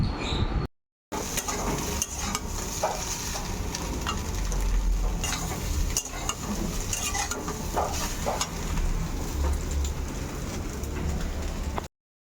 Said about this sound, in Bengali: তেলের মধ্যে গোটা জিরে তেজপাতা ফোড়ন দিলাম